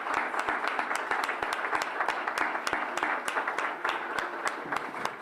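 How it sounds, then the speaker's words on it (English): An audience at an award nominations event applauds steadily, with dense overlapping claps and a few sharp nearby hands standing out, sustained at moderate volume throughout. "Let's give a round of applause to our company making an impact."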